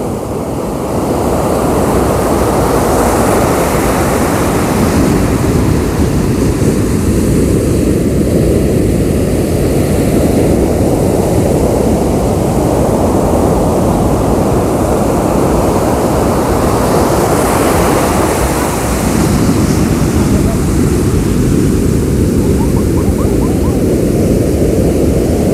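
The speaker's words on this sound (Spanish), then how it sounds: "Pues aquí estas olas sí vienen con más fuerza." Ocean waves break and surge continuously at Zicatela beach in Puerto Escondido, Oaxaca, a loud, close, steady roar of surf that swells in waves of intensity, with no talking.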